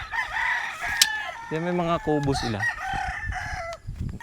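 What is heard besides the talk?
roosters crowing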